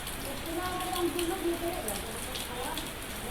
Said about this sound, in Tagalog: Kasi palakas ang ulan, kaya umuwi na kami.